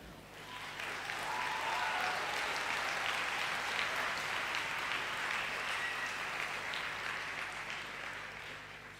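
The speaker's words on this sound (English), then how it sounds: "Clapping is in order as it is the end of this set." A crowd applauding steadily at a Model United Nations conference session, a dense continuous clatter of many hands that holds at a fairly even level throughout.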